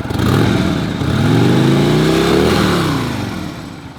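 A Harley-Davidson 103 high output twin-cooled V-twin motorcycle engine revs up and holds a loud, rumbling rise in pitch before easing back down, close and without talk.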